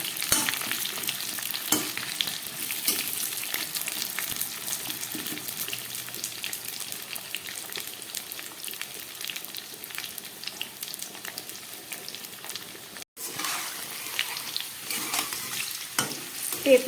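Potatoes frying in mustard oil in a wok: a continuous loud sizzle with repeated scraping stir strokes, a brief pause near the end, and no talking over it.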